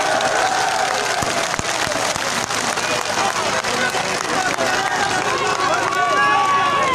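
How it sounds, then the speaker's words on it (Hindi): Crowd applause and cheering at a political rally in Kohat, a dense continuous roar of clapping with shouts running throughout the clip, while a speaker's amplified voice carries on over it. "शहरियार के लिए तालियां।"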